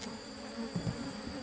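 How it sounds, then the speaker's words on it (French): Honey bees hum around a hive during a honey harvest, a steady insect buzz with faint low thumps near the middle. "on va laisser les abeilles finir leur travail à l'intérieur de la ruche"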